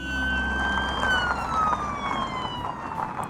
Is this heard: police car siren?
yes